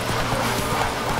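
Horse hooves clip-clop in The Witcher 3: The Wild Hunt video game, a loud, rapid rhythmic pattern of dull thuds over a dense wash of game ambience.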